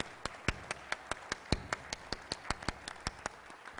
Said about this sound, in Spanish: les pediría que me acompañen a dar un fuerte aplauso al Dr. Barnett por su presentación